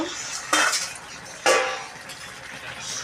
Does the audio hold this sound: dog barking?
no